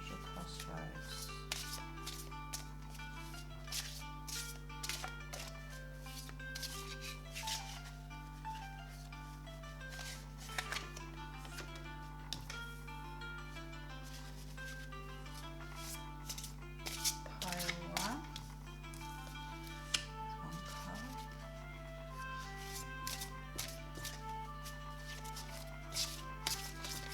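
Alchemy cards shuffled for a pick-a-pile reading, giving soft, quick riffling and rubbing sounds close by, repeated throughout over a steady low hum and faint music.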